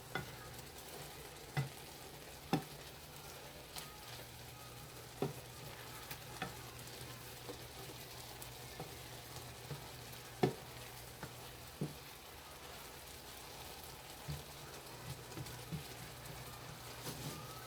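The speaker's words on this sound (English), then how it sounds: "We're going to stir this up and let this cook." Apple filling with vanilla cooking in a pan, a faint steady sizzle with occasional soft taps and scrapes of a spoon as it is stirred.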